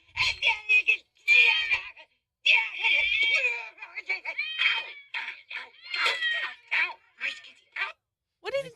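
A cat meows and yowls loudly in a rapid string of drawn-out, wavering cries with brief pauses between them. No one speaks over the cries.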